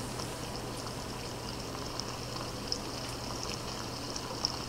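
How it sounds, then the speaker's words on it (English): Dough balls dropped into hot frying oil give a steady, fairly quiet sizzle and bubbling hiss throughout, with a low hum beneath and a couple of small pops. "you can hear that sizzle. It means our oil is ready."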